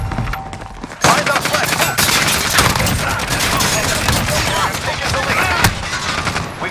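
Call of Duty: Modern Warfare gunfire is heard as dense, continuous crackling shots, bursts and explosions of battle, loud and close, with voices calling out through the chaos.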